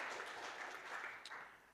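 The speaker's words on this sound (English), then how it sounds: "Big round of applause for Bree as well for all the work that she's doing." A seminar audience applauds, a faint, dense, steady wash of many hands clapping at a distance that fades slightly toward the end.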